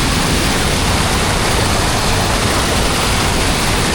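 A stream's current rushes past a fishing trap in a loud, steady roar of water that continues without pause.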